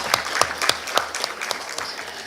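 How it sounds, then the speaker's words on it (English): Audience applause at a programmatic advertising summit, a thin scatter of distinct claps over about two seconds, fairly close and moderate in level with no talk. "let's give her a bigger round of applause."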